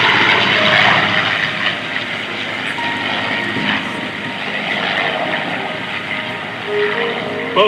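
A Corsair and a P-51 Mustang, 1945-era warbirds, fly close at an airshow, their piston engines giving a loud, continuous droning roar that swells and eases slightly.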